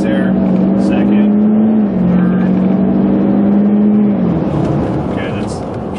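A bulletproof Hummer H2 with a Duramax diesel engine accelerates hard in manual mode, a loud steady drone that rises in pitch and then drops twice at gear changes, under a speaking voice.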